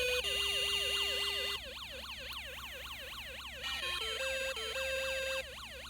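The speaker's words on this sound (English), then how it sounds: "This is a police car siren." An electronic police siren from a Snap Circuits electronics kit wails and yelps in fast rising-and-falling sweeps, then shifts to steady alternating tones, fairly clear and continuous.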